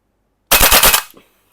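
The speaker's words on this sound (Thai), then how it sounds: "ลองลองลองยิงฟูลออโต้อยู่นะครับ" A WE AK-74 gas blowback airsoft rifle fires a short full-auto burst, about half a second of rapid sharp reports, loud and close, followed by a faint mechanical clack and silence.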